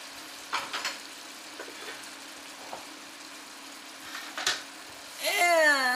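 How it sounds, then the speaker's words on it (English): Onions and garlic added to melted butter in a pot for loaded baked potato soup sizzle and crackle steadily and close up, with a few louder stirring bursts and a brief rise near the end. "And there is that butter melting away. And to that, we're gonna add some onions."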